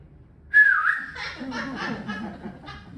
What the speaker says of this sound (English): you can learn how to whistle with the fingers between your teeth